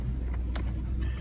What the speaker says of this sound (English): We're going to hop in the truck here and we're going to head down the road a little bit